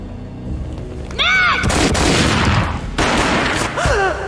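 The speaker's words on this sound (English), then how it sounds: "A gunshot boomed and she fell down in slow motion" Gunfire bursts loudly in the Max Payne video game, a broadband boom-like blast lasting over a second, then a second burst; brief voice-like tones appear before and after.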